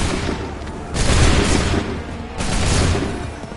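Two broad, booming gunfire volleys from ranks of soldiers in the Assassin's Creed 3 video game, each a dense crackling wave of musket shots lasting about a second over a rumbling battlefield background.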